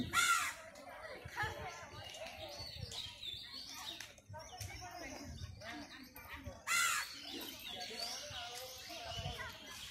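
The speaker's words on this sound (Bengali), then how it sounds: "আর পাখিও ডাকছে গাছে" Crows caw loudly and repeatedly among other chirping birds, with voices talking in the background throughout.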